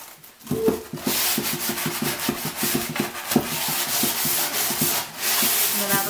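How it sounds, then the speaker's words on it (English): Wooden furniture coated in chalk paint is hand sanded to distress it, with brisk, continuous back-and-forth scraping strokes close up, loud and rhythmic with short pauses. "Heavily sand maybe your corners where the natural wear is going to be."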